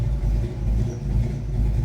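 Car engine running at a steady, low rumbling idle with slight throttle changes, close by and continuous with no talk.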